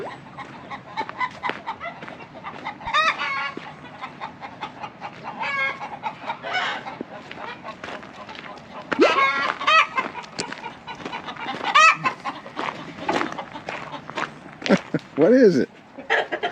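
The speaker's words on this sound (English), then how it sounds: "Chickens aren't happy." Unhappy chickens cluck and squawk in a morning coop, with a rooster crowing in bursts and a dog nearby, the fowl noise rising and falling under a person talking.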